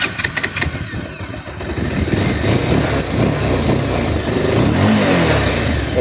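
A Bajaj Rouser 220 motorcycle engine, restarted after three years in storage, fires up and runs with a loud, steady mechanical rumble close by, with slight revving toward the end.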